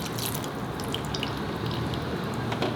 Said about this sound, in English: now this is the time to put in the thick milk.